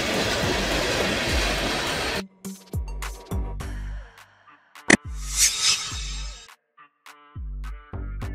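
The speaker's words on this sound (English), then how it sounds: "A freight train is a train used for transporting goods and commodities." A freight train runs on rails with a steady, dense rumble and rush for about two seconds before cutting off abruptly, followed by sparse, quieter tonal fragments.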